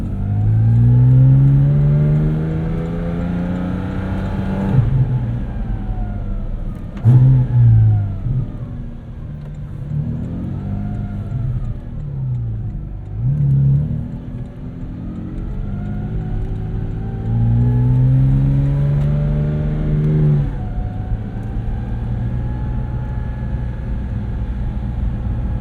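A 2023 Porsche 718 Cayman GT4 RS with a naturally aspirated 493-horsepower flat-six engine and PDK gearbox accelerates hard, its loud, close engine climbing through revs, dropping at gear changes, then rising again in repeated pulls.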